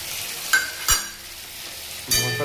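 Ground paste of ginger, black pepper and cumin sizzling in a pan, a faint hiss broken by three sharp scrapes and knocks of a spoon, close up, with no talking.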